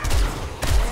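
Automatic gunfire from an SMG loaded with armor-piercing rounds in the video game 7 Days to Die, two short, heavy bursts of rapid shots close up, with a brief gap between them.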